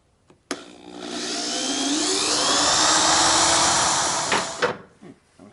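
A power drill whirs up and runs at a high, steady whine for about four seconds, then cuts off, with a few knocks before and after.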